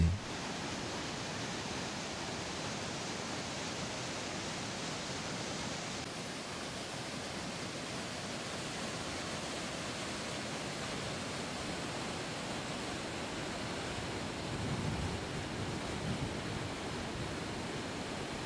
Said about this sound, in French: La cascade la plus célèbre est cette chute d'eau de 70 mètres, appelée le voile de la mariée